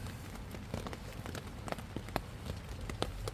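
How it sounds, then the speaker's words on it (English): Rain patters on a tent at a stealth camp during a wet English summer, with faint, irregular drops tapping the fabric and no voices. "it just hasn't stopped raining all day."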